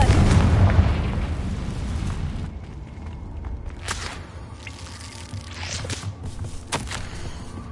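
A Confringo blasting spell in a Hufflepuff witch video game sets off a loud, booming explosion at the start that fades into rumbling debris and scattered crackles and pops.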